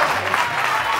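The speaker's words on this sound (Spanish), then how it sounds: "Han aplaudido a Sergio." Applause from a TV studio audience on a Spanish variety show, a steady dense clatter of many hands heard alone for about a second.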